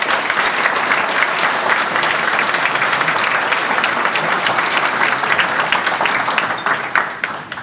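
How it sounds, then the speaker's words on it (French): Audience at a mayor's New Year address applauding the police, loud, dense clapping from a large crowd sustained evenly throughout before thinning slightly at the end. "je crois qu'on peut applaudir les forces de l'ordre"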